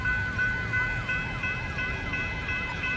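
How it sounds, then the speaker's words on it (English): An alarm wails at a petrol station, a rapid rising-and-falling electronic siren repeating evenly about twice a second, loud and steady with light background noise. "Here's an alarm in the petrol station."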